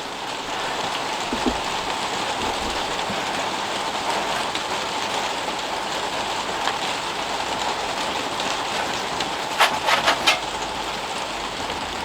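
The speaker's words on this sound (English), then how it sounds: "It is still absolutely chucking it down, as you can probably hear on the roof that I've had put up" Heavy rain drums steadily on a roof over an outdoor barbecue area, a dense continuous patter with a few louder drip bursts near the end, no talking.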